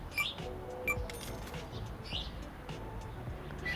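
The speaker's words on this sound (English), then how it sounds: "Those are ambient bird noises in this game." Ambient birdsong in a video game: scattered faint chirps and tweets, with a soft coo-like call, drifting over a low steady background hum.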